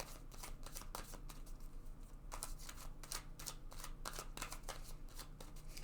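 Tarot cards being handled and drawn from a deck during a love reading, giving a run of soft, rapid papery flicks and riffles that repeat steadily at close range with no talking.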